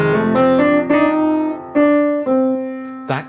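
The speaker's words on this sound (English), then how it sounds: "It's the sound of blue notes." Blue notes played on piano: a sequence of sustained chords and single notes struck one after another, ringing clearly and close, ending with a short breathy sound.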